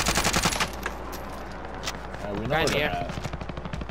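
Rapid automatic gunfire in Call of Duty: Modern Warfare, a fast rattle of sharp shots early on, then sparser pops under players talking over voice chat.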